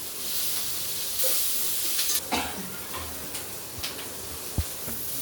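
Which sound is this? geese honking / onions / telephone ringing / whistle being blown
onions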